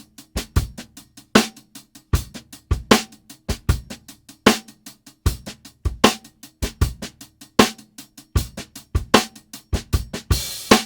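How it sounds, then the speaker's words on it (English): A raw, unmixed acoustic drum break with no effects: sharp kick and snare hits in a steady, mid-tempo groove with dry cymbal and hi-hat ticks between them, close and clear, ending on a cymbal wash. "The raw drums, completely unmixed, zero effects processing."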